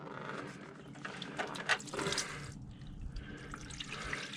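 Water trickles and drips from the oil drain plug of a 1963 Chevrolet C10, abandoned for 37 years in a field, into a pan, an irregular close splashing that swells briefly midway.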